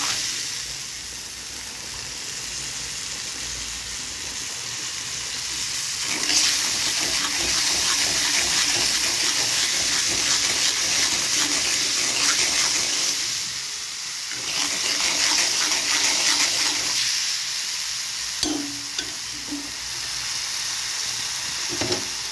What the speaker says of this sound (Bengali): তো আমি ভালোভাবে কষাচ্ছি।